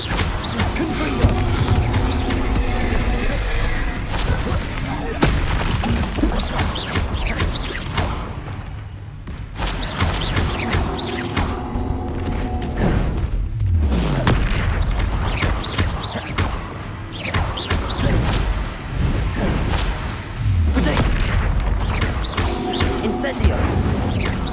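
Confringo blasting curse explosions in the video game Hogwarts Legacy, repeated booms and crashes amid whooshing spell effects and game music, with a person talking throughout.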